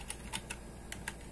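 Quick keystrokes on a computer keyboard, about five or six sharp, close clicks in an irregular burst over quiet background hum, entering a command in a MicroPython session.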